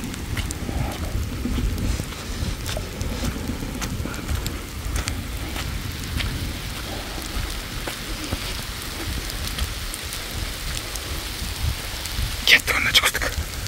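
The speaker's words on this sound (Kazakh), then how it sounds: "Қаштық онда, жаңбыр күшейді." Heavy outdoor rain comes down in a steady, dense hiss and patter, loud and unbroken, with a brief louder rustle near the end.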